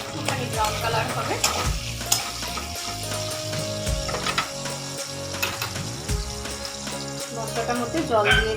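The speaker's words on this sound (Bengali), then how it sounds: "পেঁয়াজটা ভাজা ভাজা হয়ে গেছে" Onions fry in a pan for a dish of okra in yogurt, stirred steadily with a utensil scraping and clinking against the metal under a constant sizzle; close and fairly loud, without voices.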